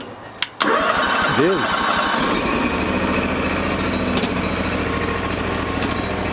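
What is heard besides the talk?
1998 Terramite T5C backhoe engine running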